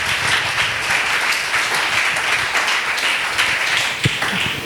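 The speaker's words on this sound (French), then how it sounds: "Est-ce qu'on peut acclamer pour la parole?" Audience applause at a church gathering, a steady wash of many hands clapping throughout, fairly loud and close, with no clear talking over it.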